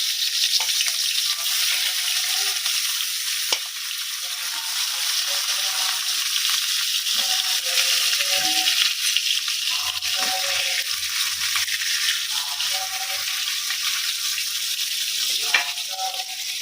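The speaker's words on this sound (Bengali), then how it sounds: "মাছগুলো এখানে ভাজতে দিয়ে দিই" Fish frying in a pan gives a steady, moderately quiet sizzle with scattered pops and faint clinks, no voices.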